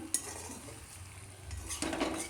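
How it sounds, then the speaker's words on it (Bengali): Ash gourd greens being stirred and fried in a pan, with scraping utensil clicks over a soft sizzle, a sharper clatter near the end. "সবটা মিশিয়ে দিয়ে সুন্দর একটু ভাজা ভাজা করে নিলাম"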